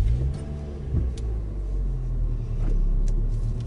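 A manual transmission car's engine rumbles steadily at low speed while the clutch is worked, with a couple of slight swells in the deep drone and no talking over it.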